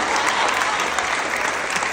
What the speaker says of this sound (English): can we give a round round of applause